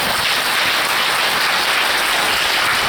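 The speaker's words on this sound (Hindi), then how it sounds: "बजाओ ताली" A seminar audience clapping together, a dense, continuous wash of applause that stays loud and even throughout.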